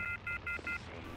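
A telephone is used in the video game Alan Wake. Four short, evenly spaced beep tones play, faint against a low steady hum.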